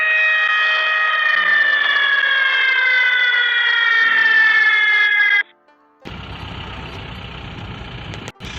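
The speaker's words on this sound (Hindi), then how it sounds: "Third siren बजाइए।" A loud warning siren sounds the third alert before blasting at an open cast coal mine, holding a steady wailing tone that slowly drops for over five seconds, then gives way to a rumbling engine nearby.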